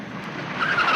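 A car brakes hard to a stop, its tires skidding with a rising, loud squeal that grows toward the end of a short burst.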